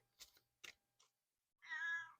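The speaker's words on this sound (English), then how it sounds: "Meow." A cat gives a few short chirps, then one longer, clear meow near the microphone in an otherwise quiet room.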